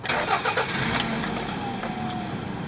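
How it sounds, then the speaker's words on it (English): A car engine starts after a sensor is replaced, a steady loud engine rumble running throughout with no talking over it. "Now we'll start the engine."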